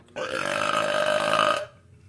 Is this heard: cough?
no